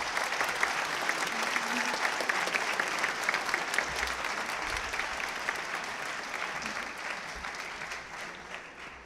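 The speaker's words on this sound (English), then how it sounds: "we'd like you to give them a round of applause for their service as well" Steady, even applause from an audience at a high school Veterans Day ceremony, honoring Space Force members, continuous clapping from a moderately distant crowd with no talking over it.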